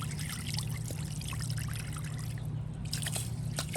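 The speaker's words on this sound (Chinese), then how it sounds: "把它淘洗一下" Rice being rinsed by hand in water at an outdoor Miao rural kitchen, a steady trickling and pouring wash with soft sloshing throughout, close and continuous.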